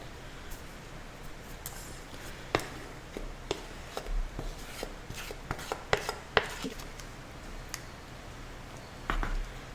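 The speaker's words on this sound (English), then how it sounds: "Now I will spread this with a little spatula, a little palette knife, I should say," Thin icing spread with a small palette knife, heard as faint scattered scrapes and light taps against a quiet background, with a few sharper clicks and a brief rustle near the end.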